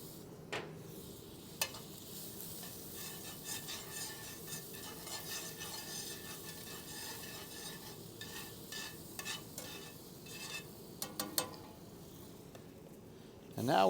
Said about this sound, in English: We're going to add the butter, and you can see the sizzle.